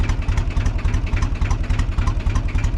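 A cold tractor engine held at full throttle roars loud and close, a steady, pulsing low-pitched drone with a fast rhythmic chug and no break.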